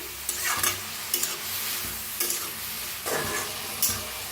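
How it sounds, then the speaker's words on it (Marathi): Bottle gourd is stir-fried in hot oil in a pan, with a continuous sizzle broken by repeated scraping stirs at an uneven rhythm. "तेल बी गरम झाले, त्याच्यात आपण काय करूया, पहिला आपण भोपळा भाजून घेऊया।"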